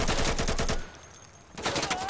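Rapid bursts of automatic gunfire ring out in a competitive shooter video game match, loud and close, pausing briefly before the shooting resumes.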